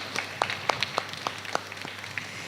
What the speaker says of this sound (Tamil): பலத்தை கைத்தட்டி நம்ம சாமியாக்கு ஒரு வாழ்த்து சொல்லுங்க பார்ப்போம்